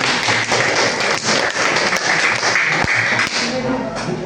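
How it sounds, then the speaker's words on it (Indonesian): Students in a classroom break into dense, rapid clapping that carries steadily for several seconds, loud and close, with a voice speaking over it. "Oke, tepuk tangan."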